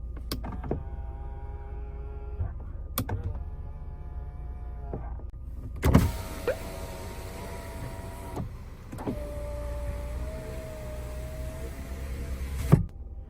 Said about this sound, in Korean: 접이식 사이드미러